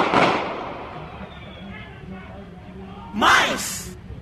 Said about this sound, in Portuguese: Pode colocar os áudios dos tiros aí,